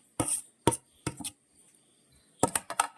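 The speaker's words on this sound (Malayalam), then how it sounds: "ഇത് നമുക്ക് നന്നായിട്ടൊന്ന് ഇടിച്ച് ചേർക്കാം" Tapioca vada mixture is pounded and mixed in a bowl, giving a handful of sharp, close thuds and knocks in irregular pairs with quiet gaps between.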